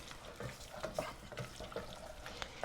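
Flour and butter are stirred into vegetables in a pot. A quiet, soft sizzle runs under faint scrapes and clinks of the spoon, with no talk.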